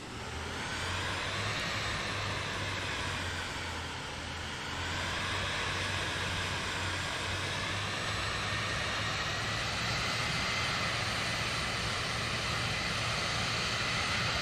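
Steady, loud engine drone of a Cirrus Vision Jet G2 taxiing in Microsoft Flight Simulator, a continuous whine with a low hum beneath it that holds for the whole stretch and briefly softens once.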